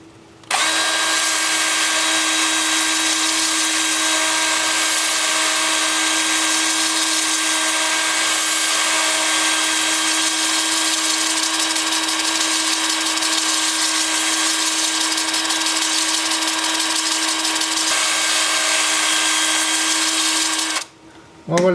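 A wooden tri-corner bowl spinning on a lathe at 340 RPM while its inside is sanded with 80-grit paper, giving a loud, steady whirring hum with a faint abrasive hiss that starts and stops abruptly.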